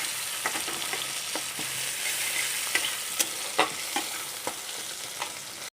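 Chopped onion and black cumin seeds fry in hot oil for a Bengali chitol fish curry, a steady dense sizzle throughout with occasional sharp crackles and stirring scrapes, close and without talk.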